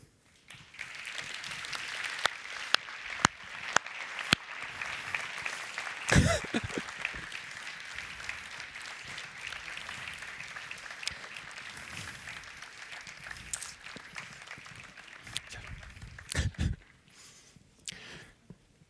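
Conference crowd applauding the organizers on stage at closing remarks, a long steady wash of clapping from many hands, fairly distant, punctuated by sharp close knocks and a couple of louder bursts near the end before it fades out.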